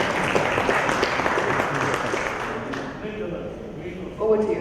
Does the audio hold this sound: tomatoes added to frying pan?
no